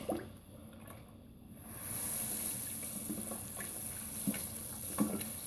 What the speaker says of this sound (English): I just dump a little bit in and stir it around slowly so I don't get any dough balls.